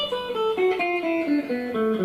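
A melodic blues lick played on electric guitar: a quick run of clean, sustained single notes stepping mostly downward, close and clear with no talking.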